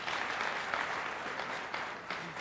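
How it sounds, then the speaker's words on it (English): Audience applause at an international film and TV festival, a dense, steady wash of many hands clapping throughout, fairly soft and even with no talk over it. "And let's give them a big round of applause"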